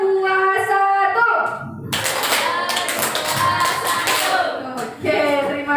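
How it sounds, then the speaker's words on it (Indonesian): A classroom group of participants claps hands together in rhythm during a coding and computational thinking training session, a dense burst of applause-like clapping with some voices and children's chatter mixed in. "Tepuk tangan dulu untuk kita semuanya"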